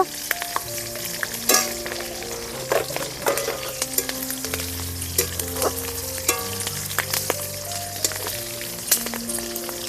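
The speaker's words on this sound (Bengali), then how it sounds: "রসুনটা কিন্তু আমার ভাজা হয়ে গেছে কাঁচা লঙ্কাটাও ভাজা হয়ে গেছে" Garlic and green chilies fry in oil in a pan, a steady close sizzle with crackling pops and scraping stir strokes throughout, no talking.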